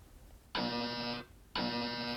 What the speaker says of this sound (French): l'alarme va se déclencher.